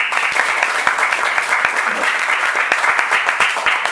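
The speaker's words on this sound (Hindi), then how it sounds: "आइए यीशु मसीह के लिए जोरदार तालियां बजाएंगे।" Loud, sustained applause from a crowd, dense clapping that continues steadily throughout without pause.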